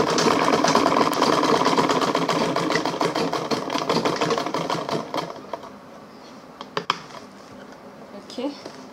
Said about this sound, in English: So I'll stitch on top of the leather again so that it will be able to lie flat.